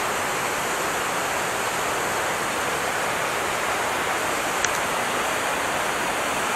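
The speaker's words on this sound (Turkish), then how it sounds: "Şelale oldukça yüksekler akıyor ama eski Hisar'daki gibi değil." A tall waterfall with a heavy, abundant flow pours in a steady, dense roar of rushing water, continuous and fairly loud, with no talk over it.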